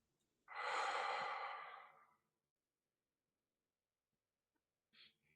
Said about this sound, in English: Take another breath, blow it out.